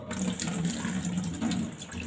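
Water is poured over salt into the sieve of a bathroom floor drain, making a steady close splashing trickle for about two seconds with no talk.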